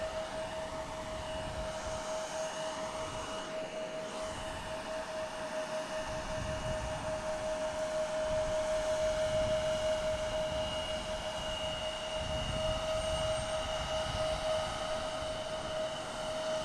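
Alaska Airlines Boeing 737-900 jet at Portland International Airport, a steady broad engine roar held for the whole stretch, moderately distant, with a sustained whine and no talk.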